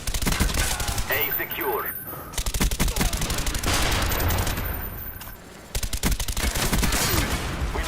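Suppressed Commando rifle fire from Call of Duty Black Ops comes in rapid muffled bursts with short pauses between them, loud and close. Game effects and a brief radio-style voice sound underneath.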